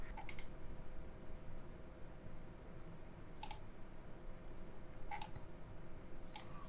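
Four sharp computer mouse clicks while downloading a zip file, spaced irregularly over a quiet background hum, crisp and close.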